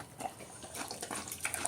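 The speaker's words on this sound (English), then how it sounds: "Should I put some water in it to slow you down?" Water splashing into a pig's salad bowl in a home kitchen, faint irregular trickles and small splashes over a short moment, with no voices.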